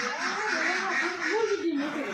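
Laying ducks on a duck farm give a short run of nasal quacks, moderately close, over a steady background murmur.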